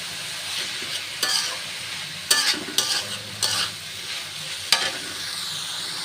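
Chorchori vegetables hiss and crackle loudly in hot oil tempered with panch phoron, with a steady sizzle broken by several sharp scraping stirs of a spatula in the pan.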